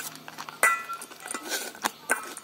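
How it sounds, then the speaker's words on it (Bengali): Metal spoon mixing pickle with oil in a bowl: light clinks and scraping taps against the dish in an irregular rhythm, close and fairly quiet, with a few sharper knocks and no talking. "আচারটা মাখিয়ে নিই, চামচ দিয়ে মাখবো।"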